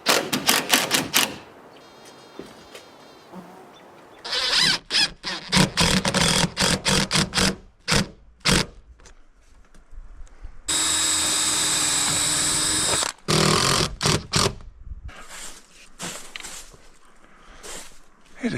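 A power drill pre-drills holes for non-self-tapping screws during a mountain homestead build, with one sustained whirring burst of a few seconds amid scattered knocks, taps and clattering handling noises up close.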